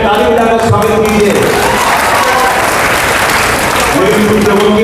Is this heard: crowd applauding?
yes